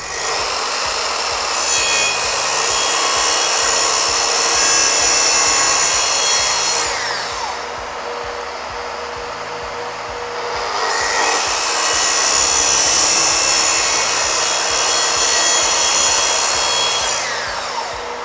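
A power tool set to a chosen cutting depth saws through wood for a window frame, producing a loud, harsh, continuous grinding in two long passes separated by a brief lull.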